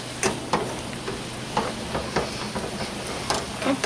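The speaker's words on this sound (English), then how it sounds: "Add the brown sugar. Going to stir that up." Bitter melon and pork belly with brown sugar are stirred in a hot pan. A steady sizzle runs underneath while sharp scraping strokes of the utensil land every second or so, close and fairly loud.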